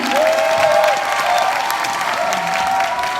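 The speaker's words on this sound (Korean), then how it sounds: "큰 박수로 환영해 주시기 바랍니다" An audience at a corporate event for Crown Royal gives a loud, sustained round of applause to welcome the company's president to the stage, with dense clapping and a few faint cheers throughout.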